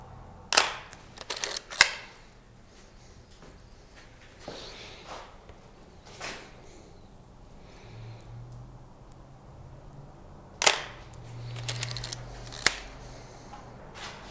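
Sharp mechanical shutter clicks from a film camera with a 50 mm lens sound in scattered pairs and singles inside a quiet abandoned building, with faint shuffling between shots.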